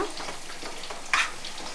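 Seelavathi fish frying in a pan, an even sizzle with a soft stirring texture and one brief louder splatter partway through.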